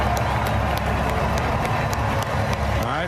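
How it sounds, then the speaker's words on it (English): Dense stadium crowd at the Super Bowl cheering and roaring as Trump is shown, a loud, continuous wash of voices with scattered claps and shouts, no individual words standing out. "People cheering when he was featured"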